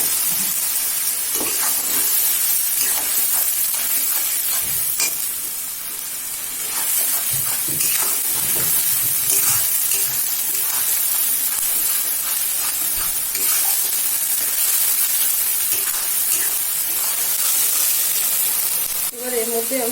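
Onion paste frying in oil for doi katla gives a continuous hissing sizzle that runs throughout, with occasional clinks and a voice speaking over it.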